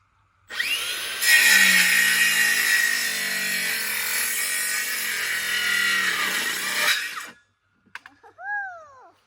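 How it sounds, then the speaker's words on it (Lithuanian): Power saw cutting through wood outdoors, a loud sustained whining buzz for roughly seven seconds with the pitch shifting as the blade bites, then cutting off, followed by brief knocks and a short voice. "aš paleisiu pjūklą, tu veši, gerai?"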